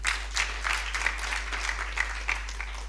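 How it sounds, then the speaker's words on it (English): Applause for a speaker at a conference session, a thin scattering of claps with a steady low hum underneath, fairly sparse and moderate in level throughout. "Kindly give him another round of applause."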